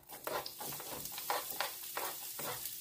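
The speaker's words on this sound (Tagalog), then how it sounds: "Siyempre, gisagasan muna natin ang sibuyas at bawang." Onion and garlic sautéing in a pan, a soft, quiet sizzle broken by repeated stirring scrapes at a fairly even rhythm.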